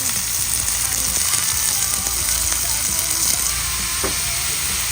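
Bitter gourd (ampalaya) sautéing with salt or fish sauce, crackling in a loud, dense, unbroken sizzle close to the pan, with faint stirring scrapes.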